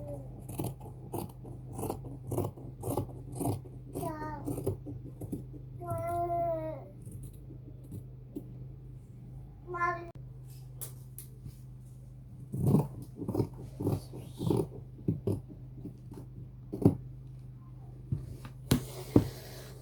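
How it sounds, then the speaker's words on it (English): Scissors snip through shirt fabric close up during cutting and sewing, repeated short crisp cuts in irregular bursts, quiet, with occasional voice sounds in between. "Then after which we are going to cut it out."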